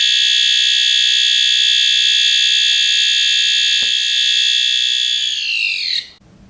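A Firelight/Notifier fire alarm device set to continuous low volume sounds a steady, unbroken electronic tone that holds for about six seconds, then drops away and stops.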